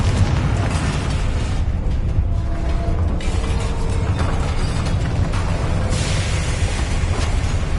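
Confringo fire spell blasting in the Hogwarts Legacy game, a dense, loud, continuous roar of explosions and crackling bursts that fills the whole stretch with no talk.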